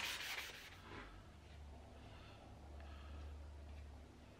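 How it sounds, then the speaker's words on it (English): Wooden dowels and the inside faces of wooden shelf uprights are hand sanded with abrasive paper, making a faint, steady rubbing hiss over a low background hum, with no voices. "I give the dowels and the inside sections of the uprights a final sand"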